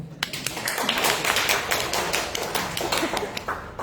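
Audience clapping at an indoor MLM sales training event for a fragrance business, a close, lively run of many hands tapping and clapping steadily for several seconds with little talk.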